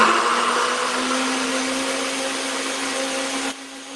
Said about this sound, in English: I'm putting this lid on, and I'm just going to turn it over and blend it.